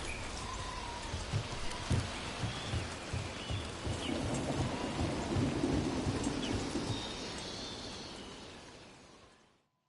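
Steady rain hisses in Dragon Age: The Veilguard, with low thunder rumbling and scattered heavy drops tapping nearby. The storm holds at a constant level, then fades out near the end.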